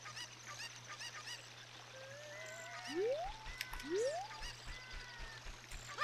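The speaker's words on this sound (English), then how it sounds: "Come back here, chicken. Cuckoo chicken." Cucco chickens in The Legend of Zelda: Ocarina of Time give game-style fowl calls, including two rising, honk-like squawks about a second apart over a steady background hum, with no talking.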